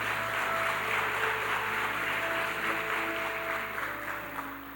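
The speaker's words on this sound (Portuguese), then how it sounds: "aplauda bem forte o nome de Jesus" A church congregation applauding together, a steady wash of clapping that holds evenly throughout, with faint sustained musical tones beneath.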